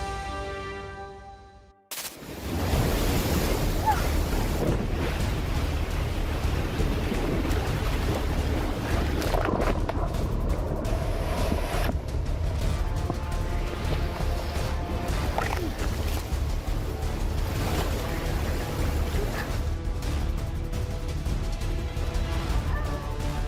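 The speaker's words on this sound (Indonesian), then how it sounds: "gulungan ombak tak biasa dan saling berkejaran ke sisi berlawanan terlihat di Sungai Kampar" Turbulent tidal bore waves roll along the Kampar River, giving a loud, steady roar of rushing water and surf that carries on without a break after a short quiet opening, with wind noise mixed in.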